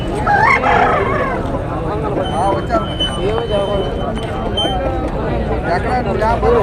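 A rooster crows loudly several times, its calls rising and wavering over a busy backdrop of voices and market chatter at a country-chicken market in Nallapadu, Guntur district.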